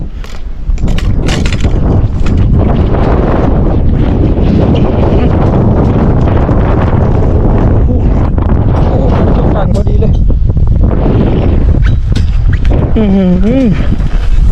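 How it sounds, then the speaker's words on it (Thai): Loud, gusty wind and rain buffet the microphone on a boat with a rough roar and rushing noise, while someone talks over it. "ลมฝนนะครับ"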